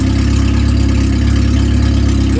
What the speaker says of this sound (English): He hasn't got an exhaust on, but it's up and running.